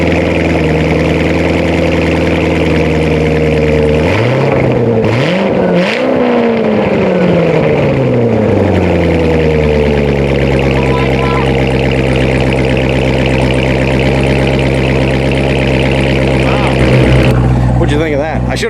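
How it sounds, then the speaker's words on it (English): Corvette engine cranking and firing for the first time, then settling into a steady, loud, rumbling idle that holds close and continuous, with people talking over it. "let's go start your car for the first time"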